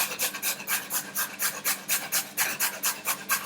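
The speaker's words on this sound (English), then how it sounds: "It doesn't take a minute to grate a carrot." A peeled carrot is rubbed against a kitchen grater in quick, even rasping strokes, about a dozen in a steady rhythm, close and clear with no talking.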